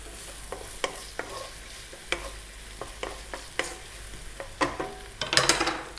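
Onion, garlic and olives frying in a pan, with scattered sharp clicks and scrapes of a utensil stirring them over a soft, steady sizzle, close by and without talk.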